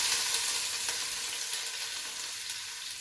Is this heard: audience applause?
no